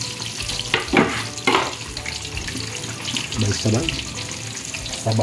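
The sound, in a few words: ginger, garlic and tomato sautéing in a pan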